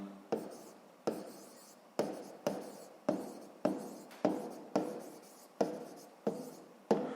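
A pen or pencil writes out a sixth-grade math solution on paper in quick, evenly spaced strokes, about a dozen scratchy marks heard up close in a quiet room.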